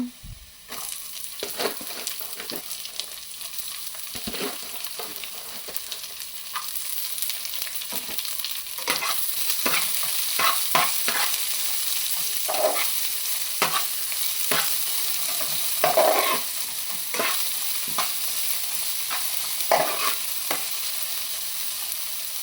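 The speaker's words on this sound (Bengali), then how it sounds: "এর মধ্যে রসুনটা লাল লাল হয়ে আসছে" Garlic sizzling in a hot pan while being stirred with a utensil, cooked for a village-style red amaranth leaf stir-fry; a steady soft frying hiss continues throughout, broken by repeated close scraping strokes and no talking.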